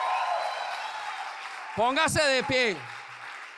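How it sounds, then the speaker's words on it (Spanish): A church congregation breaks into sustained applause during a worship service, a dense wash of clapping that fills the room before a voice takes over and speaks over it. "dele un aplauso a Dios"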